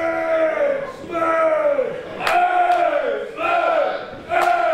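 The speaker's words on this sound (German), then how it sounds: "Und die Zuschauer feuern X-Men wieder an." A wrestling crowd at an event in Eutin roars and chants in rhythmic waves of cheering for a wrestler. The loud, massed voices rise and fall repeatedly.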